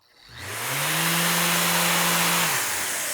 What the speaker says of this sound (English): once you turn on the sander, the dust extractor has the tool outlet function on